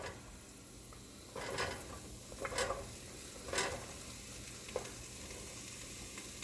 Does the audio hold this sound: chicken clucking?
no